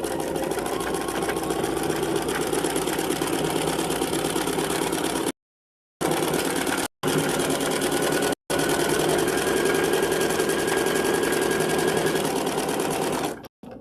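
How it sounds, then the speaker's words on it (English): A Bernina sewing machine stitches fabric with a fast, steady mechanical whir and rapid needle rhythm that runs continuously, broken by a few brief pauses before resuming. "we're just going to sew until we're crossing over our previous stitches"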